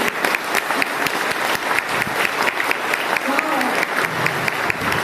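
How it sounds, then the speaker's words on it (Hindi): A seminar audience bursts into loud, steady applause honoring the men in the hall, a thick, continuous wash of many hands clapping without pause. "एक बार इनके सम्मान में जोरदार तालियां बजाएं"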